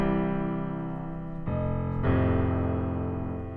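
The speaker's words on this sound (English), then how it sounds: "the next thing we're going to try is playing the bass note first and then the chord after it" Chords played with the bass note struck first and the full chord following, a sustained low note then a fuller harmonic chord entering, repeated, heard alone at moderate volume.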